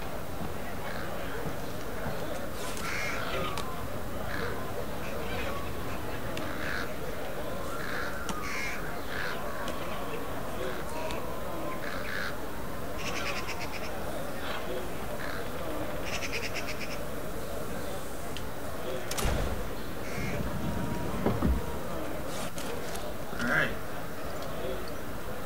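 Agitated birds in the Thief video game caw repeatedly in scattered, harsh calls over a low ambient game background, with a few sharper knocks near the end.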